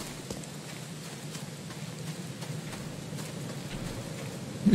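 Rain falls steadily in the video game The Sinking City, a soft continuous patter with scattered drop taps, moderately faint and unbroken, with a brief louder knock at the very end and no talk.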